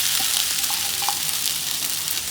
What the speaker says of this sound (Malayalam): ഇതിലേക്ക് ഞാനിതാ വെളുത്തുള്ളി, ഇഞ്ചി, പച്ചമുളകൊക്കെ അരിഞ്ഞത് ഇടുന്നുണ്ട് കേട്ടോ